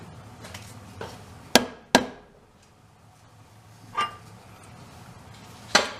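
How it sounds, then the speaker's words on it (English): A long steel pry bar strikes the threaded stud of an engine mount on a Nissan S13 240SX, four or five sharp metallic clanks spaced irregularly over quiet background. "I've got a long pry bar I'm hitting on the threaded part with there, trying to get it up into the mount"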